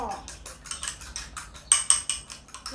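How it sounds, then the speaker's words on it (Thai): Two eggs beaten with a utensil in a bowl, a quick, steady run of light clinking strikes against the bowl, close and clear, with about a dozen rhythmic taps. "ตีให้ไข่แตก"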